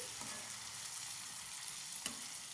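Tomato pieces fry in a pan for a cauliflower and egg curry, giving a steady, even sizzle with a couple of faint stirring clicks.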